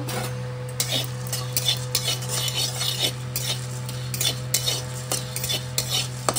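Whole coriander and cumin seeds dry-roast in a pan without oil, loud repeated scraping and clinks of a spatula stirring over a steady low hum, close by.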